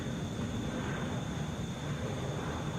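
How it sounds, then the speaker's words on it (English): A United Airbus A319 jet at Atlanta airport gives off a faint, steady distant engine rumble with a thin high whine, unbroken and without voices. "This is United 340 going to Denver, Airbus A319."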